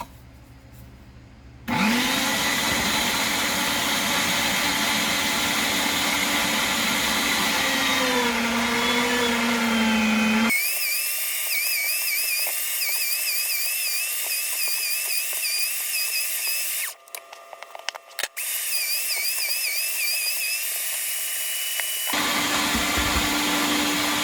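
An electric meat grinder grinds pork loin with a loud, steady motor whine that shifts pitch as meat feeds through, cutting off abruptly and restarting in bursts.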